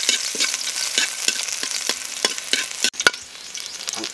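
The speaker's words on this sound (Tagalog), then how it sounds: "Magsusute na tayo. Yan o, bawang." Garlic sizzles and fries in a hot pan while it is stirred, with repeated scraping strokes over a steady crackle. Close and clear, with no talking.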